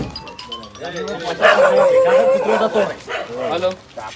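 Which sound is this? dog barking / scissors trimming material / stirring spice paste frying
dog barking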